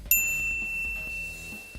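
A bright notification bell ding rings out once near the start, clear and close, its metallic tone ringing on and fading slowly, with no talk.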